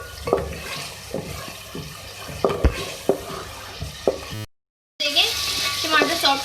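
Masala and chopped tomatoes fry in a pan for a potato and capsicum dish, with a steady sizzle, repeated clanking stirs of a spoon, a brief cut to silence, then a louder sizzle.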